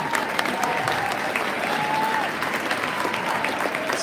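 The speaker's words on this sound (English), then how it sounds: "let's give our applause to the end for everybody" Steady, full applause from a large audience at a spring band concert, sustained clapping at an even level throughout with a faint tone running underneath.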